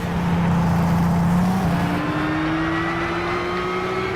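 An El Camino's engine revs hard in Gran Turismo 6 on PS3, a loud, steady drone whose pitch climbs gradually, with no talking.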